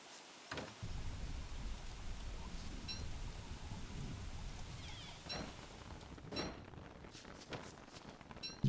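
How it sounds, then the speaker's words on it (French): Steady rain pours in the game Don't Starve Together, a dense, even hiss that continues throughout with scattered heavier drops and faint crackles, and no voices. "Il pleut bien là."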